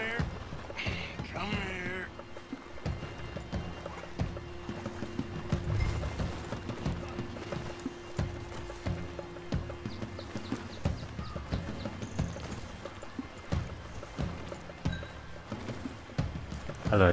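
Horse hooves clip-clop steadily as a rider travels in Red Dead Redemption 2, a continuous rhythmic patter under game ambience and music, with someone talking over it.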